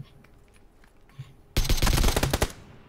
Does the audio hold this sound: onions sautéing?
no